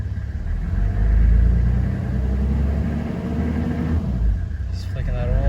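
Toyota Landcruiser 105 with a 1HZ diesel engine idling just after an oil change, a steady close low rumble with a slight swell partway through, people talking over it.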